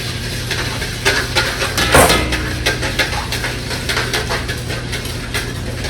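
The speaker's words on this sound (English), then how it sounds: "We're just going to whisk those together real thoroughly." Lemon juice and vanilla extract whisked in a mixing bowl for red velvet cupcake batter, with a steady run of quick clinking, scraping strokes of the whisk against the bowl and a louder clatter near the middle.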